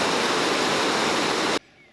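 Water pours over a river weir on a beck in a dense, loud, steady rush. The rush cuts off abruptly near the end, leaving quiet background.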